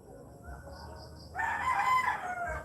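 A native rooster in the Philippines crows once, loud and near, after a quiet lead-in with faint background clucks, the call rising sharply and holding for over a second.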